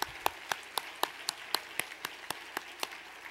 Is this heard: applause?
yes